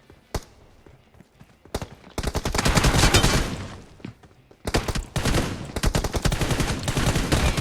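Gunfire from the mobile game PUBG Mobile: a few isolated shots, then long dense bursts of rapid automatic fire, loud and close with brief pauses between volleys.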